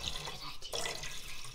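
Tap water running steadily as two cups are poured into a pot for homemade soup in a kitchen, a close continuous splashing flow with a brief dip midway.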